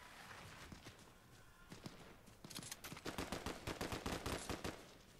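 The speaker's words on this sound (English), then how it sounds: "Oh, I'm being shot at." Gunfire rattles in a Fortnite match, sparse single shots at first, then quickening into rapid, loud bursts of automatic fire toward the end.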